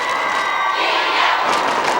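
A large crowd at Maidan in Kyiv cheers and shouts during a televised dance competition, a loud continuous roar of voices with a sustained tone fading early and a surge of cheering near the end.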